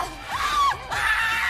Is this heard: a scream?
yes